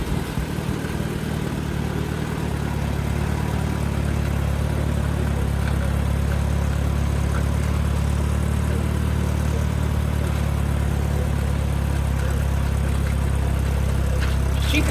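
An Allis Chalmers tractor engine idles with a steady, low rumbling drone that holds constant throughout, close by and fairly loud, with no talking.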